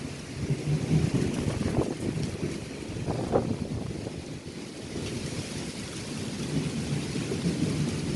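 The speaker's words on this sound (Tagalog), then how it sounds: "Nakidlat po, nakidlat." A low rumble of thunder from lightning rolls beneath steady wind and rain noise, rising and fading over several seconds.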